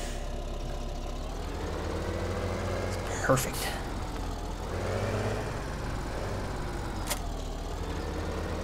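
Tractor engine idling in the video game Farming Simulator 17, a low steady rumble running under a voice, with a couple of brief clicks and knocks on top.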